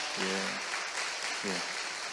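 A congregation applauding during a Korean Sunday church service, welcoming visiting family members: a soft, steady patter of clapping heard from a distance, with brief voices rising over it.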